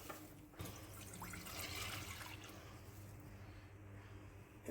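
Water poured into a pot to start the syrup for homemade kunafa, a steady, fairly quiet rushing splash that runs continuously with no talking.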